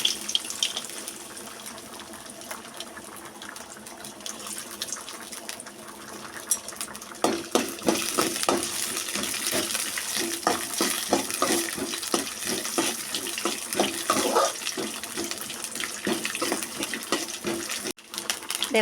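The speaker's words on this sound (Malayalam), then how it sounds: "നെയ്യൊഴിച്ചാണ് നമ്മളിത് വറുക്കുന്നത്." Coconut pieces frying in ghee, a continuous crackling sizzle that turns busier and louder partway through, with clinks of a utensil against the pan.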